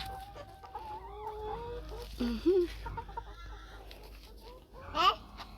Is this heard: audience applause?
no